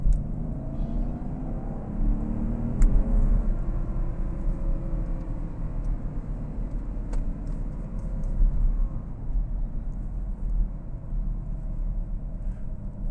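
A car engine rumbles as the vehicle drives, a steady low drone heard from inside at a fairly constant level throughout, with only faint ticks above it.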